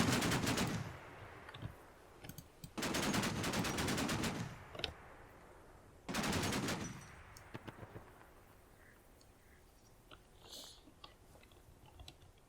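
Gunfire erupts in the video game Combat Mission Black Sea: three loud bursts of rapid automatic fire, each a couple of seconds long, separated by quieter scattered pops and distant shots.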